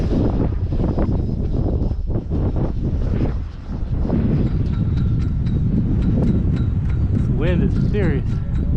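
Strong wind buffets the microphone at a model jet flying field, a loud, continuous roaring rush with gusty swells, while a voice talks briefly underneath.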